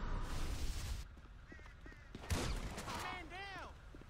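Gunfire in Grand Theft Auto V during a jewelry store robbery, quiet bursts of shots amid game noise with a sharp loud crack near the middle, while voices talk.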